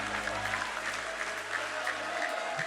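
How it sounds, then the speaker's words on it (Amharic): A church congregation at a youth conference claps steadily throughout, a dense, even wash of hands with faint musical tones held underneath. "አጨብጭቡ ለጌታ ክብር ባካችሁ።"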